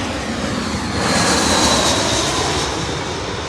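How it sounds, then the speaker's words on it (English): An Airbus A319 jet at Heathrow roars at full throttle, a loud broad wash of engine noise that swells slightly near the middle and holds steady throughout. "I actually think that's an A319, but it's the same thing"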